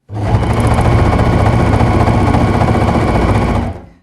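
A sewing machine stitching balaclavas and warm tactical hats for soldiers in a school workshop runs steadily and loudly for about three and a half seconds with no pauses, then stops.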